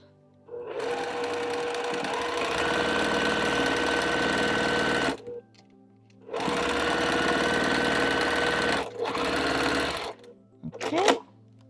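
A sewing machine stitches quilt block pieces together for a Jewel Box block, running loud and close in two long steady bursts with a brief pause between, then a short final burst and a few stray clicks.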